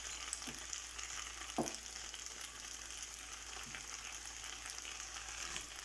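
Macaroni and cheese with saltfish stirred in a pot, with soft, occasional spoon scrapes and one sharper knock against the pot over a steady, faint hiss.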